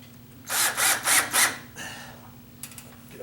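A power drill drives wood screws into an exterior door frame for a sagging glass door, four quick close whirring bursts in a row followed by a softer, longer spin and a couple of faint clicks.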